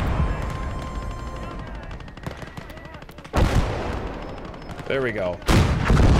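Tank gunfire in a war video game set in hedgerow country, rapid machine-gun bursts rattling under battlefield noise, broken by several heavy, loud cannon blasts toward the end, while a player talks briefly.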